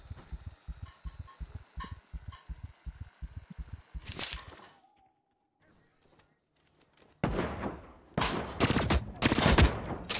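Gunfire in The Cycle Frontier: a rapid burst of automatic shots, a few seconds of near silence, then loud, sharp volleys of close gunfire.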